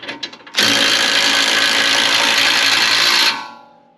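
A power drill bores through a steel part while a vertical link is installed on a 2020-2026 Ford Explorer ST, a loud, steady high whine lasting about three seconds that then winds down.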